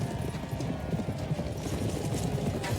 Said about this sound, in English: Look at that horse go!